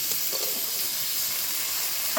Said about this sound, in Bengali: এবার আলু বেগুন টমেটো একসঙ্গে দিয়ে দেবো।